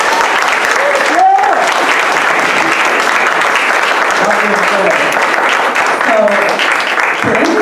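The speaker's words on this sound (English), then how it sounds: "Can we clap it up for Palenke Arts," Audience applause at a teen arts center performance event, sustained dense clapping from a crowd throughout, loud and steady, with a voice briefly speaking over it.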